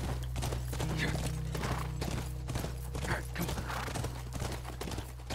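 Hooves clip-clop steadily from a horse in the video game The Last of Us. The even, repeated beats sit over a constant low hum and background game sound.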